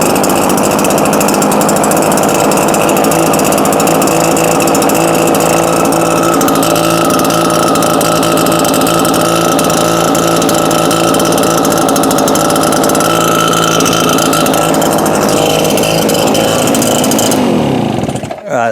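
A petrol backpack leaf blower engine runs loud and close, a steady buzzing drone that cuts off abruptly at the end.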